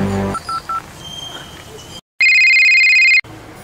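Telephone keypad tones: a few quick dialing beeps are followed by a loud, steady electronic tone lasting about a second, close and clear, in a Telugu comedy film scene.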